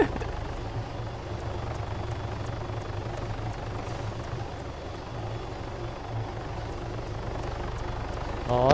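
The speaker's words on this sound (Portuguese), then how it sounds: "Nossa, helicóptero legal, hein, velho." A helicopter in the video game ArmA 3 runs continuously, its rotor beating a steady, rapid thump under an even engine drone, fairly close and without letup.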